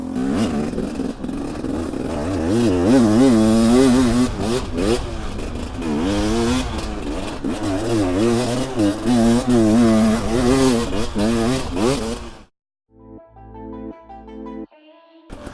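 A two-stroke enduro motorcycle revs hard while being ridden, its engine note rising and falling in repeated bursts for about twelve seconds before cutting off, followed by a few scattered clicks.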